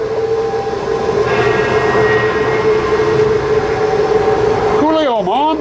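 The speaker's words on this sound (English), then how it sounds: "fogger's going again." A fog machine runs during setup of haunted tents, giving off a loud, continuous hissing hum with a steady tone, which wavers near the end.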